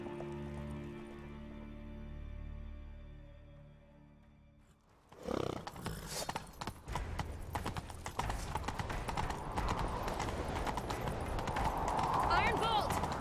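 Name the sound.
horse galloping hooves in video game The Witcher 3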